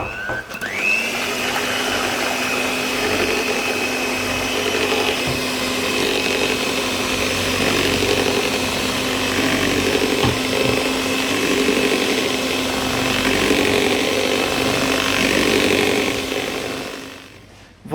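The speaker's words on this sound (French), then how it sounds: "je vais battre les 6 blancs d'œufs en neige" An electric hand mixer beats six egg whites into stiff snow for a chocolate mousse, a steady, loud whirring drone that runs unbroken for about seventeen seconds with no talking.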